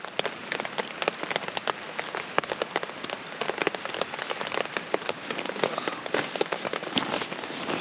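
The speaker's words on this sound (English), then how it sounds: "Pretty rainy outside." Steady rain drums on a tent during a winter camping trip in California, a dense patter of close drops with sharper individual taps scattered throughout, no voices.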